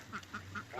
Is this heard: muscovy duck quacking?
yes